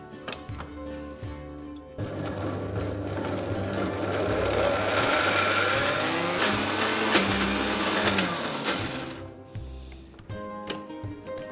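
A mixer grinder whirs steadily for about seven seconds as it blends raw mango, mint and onion into chutney, its loud motor hum starting abruptly and cutting off near the end, with quieter clinks before and after.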